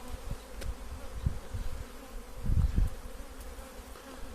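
Caucasian honey bees buzz softly and continuously close by, with a few louder passes swelling near the middle.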